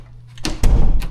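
A bedroom door is shut during a vacant-unit inspection, giving a couple of close, solid thuds about a second apart.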